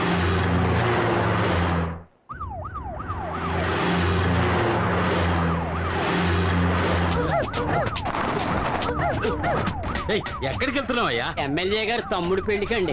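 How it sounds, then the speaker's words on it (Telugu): A car siren wails in repeated rising and falling sweeps, growing denser and more layered toward the end, mixed with engine noise while people talk over it; a brief dropout occurs early on. "సైరన్ సౌండ్ అండి."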